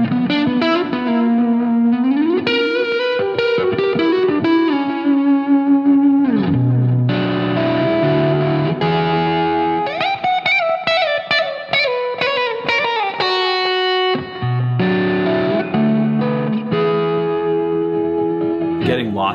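Distorted electric guitar runs a harmonic minor lick with bends, fast note runs and sustained notes, loud and close, played alone in a guitar store setting.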